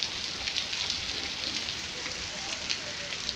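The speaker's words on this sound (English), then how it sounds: "Maybe you can hear, but it's raining pretty good." Heavy rain pours down in a dense, constant hiss, with drops drumming on surfaces nearby and no voices, during a thunderstorm.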